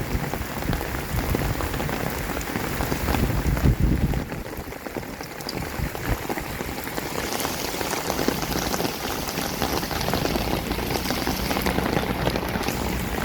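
Heavy rain pours down during a rocket festival, a dense, loud, continuous hiss of drops hitting surfaces close by, steady throughout with no talk.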